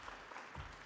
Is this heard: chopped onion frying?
no